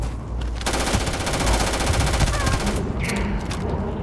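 Automatic weapon fire in the sci-fi video game Starfield: a loud, dense stream of rapid shots rattles without pause for about two seconds, then cuts off into quieter game ambience.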